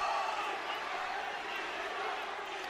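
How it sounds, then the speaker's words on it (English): A packed arena crowd roars at a college basketball championship game between Liberty and Lipscomb, a dense, steady wash of cheering heard from a distance at moderate volume. "Wow, this crowd is into it. What an atmosphere."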